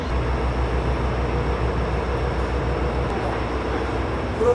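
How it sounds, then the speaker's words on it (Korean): A small local train in Hokkaido rumbles steadily along, its low engine and wheel drone filling the whole stretch at an even, close level with no break. "진짜 작은 열차다."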